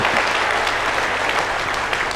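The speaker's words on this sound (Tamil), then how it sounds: "இங்கே இருப்பவர்கள் கைத்தட்டி இவர்களை பாராட்ட வேண்டும்" An audience at a televised debate show in a hall bursts into sustained, dense clapping, loud and even throughout with no voices over it.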